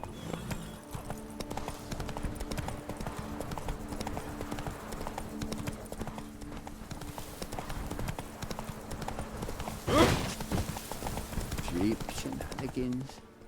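Horse hooves clip-clop steadily at a walk in The Witcher 3, with game music and ambient sound beneath, plus a brief louder burst near the end.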